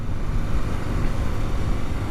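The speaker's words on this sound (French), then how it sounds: "Ensuite, on la démarre avec le bouton rouge ici." A BMW R12 nineT motorcycle engine runs right after a red-button start, a steady low, rumbling idle that stays even and close for the whole stretch.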